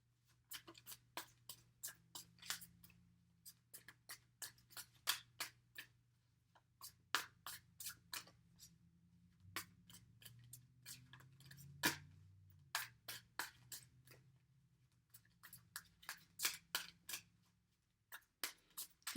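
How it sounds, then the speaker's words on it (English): Tarot cards being shuffled by hand in a quiet room, a long run of crisp riffling snaps and soft slaps in uneven bursts, close and fairly faint with a low hum underneath. "If you don't care for the shuffling, please just fast forward through it."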